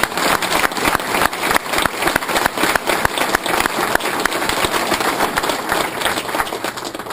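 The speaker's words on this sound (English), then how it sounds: "So let's give all three of them a round of applause." A civic audience at a city's state-of-the-city address applauds founding partners, producing a loud, sustained, dense clapping that fills the room evenly for several seconds, with no voices on top.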